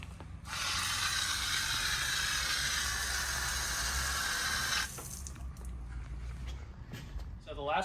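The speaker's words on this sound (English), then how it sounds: "You'll just turn your water on and should be good to go." Water gushes steadily from the tap of an Eco Sani sanitation system for about four seconds, a loud broadband hiss that then cuts off abruptly, leaving low background hum.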